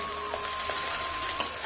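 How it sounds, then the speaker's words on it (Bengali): Chowmin with vegetables and a packet of Maggi masala being stirred in a hot pan, a steady soft sizzle with faint scraping strokes and one sharper clink near the end, no voices. "ভালোভাবে মিশিয়ে নেব।"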